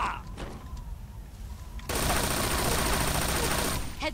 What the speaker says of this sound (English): She's down, I'm supposed to shoot her.